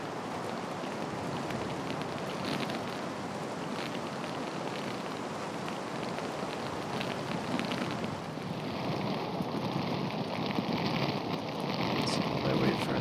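Torrential rain downpour pours over a golf course during a women's professional tournament, a dense, steady hiss that holds throughout and grows slightly heavier toward the end, with faint speech underneath.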